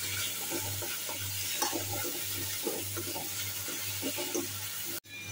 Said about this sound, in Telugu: ఇందులో ఉండే పచ్చివాసన పోయేంత వరకు బాగా వేయించుకోవాలి.